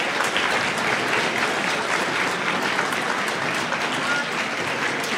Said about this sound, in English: Could we give a big round of applause